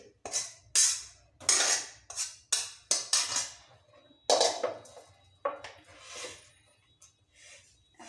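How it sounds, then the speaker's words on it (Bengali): Pieces of pointed gourd (potol) for bharta are tipped from a container, giving a series of close clattering knocks and scrapes of utensil against dish in uneven bursts. No one talks. "এই যে এখন পটলটা আমি ঢেলে নেব।"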